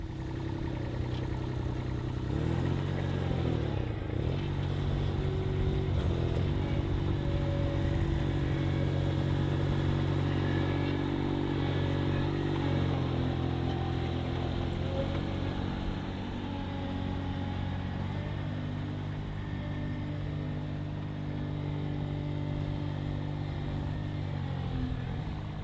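A Baumalight 620D mini skid steer runs with a constant, droning engine hum that holds steady and loud for the whole stretch, with no clear talk over it.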